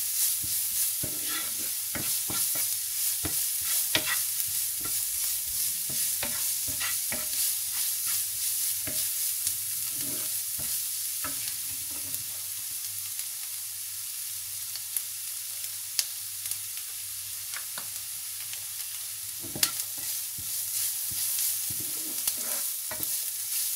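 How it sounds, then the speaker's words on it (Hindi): Spices and onions fry in a pan while being cooked for chicken paratha rolls, a continuous soft sizzle with frequent scraping and tapping stirs of a spoon, close and steady, with no talking. "अब इनको 2-3 मिनट भून लें।"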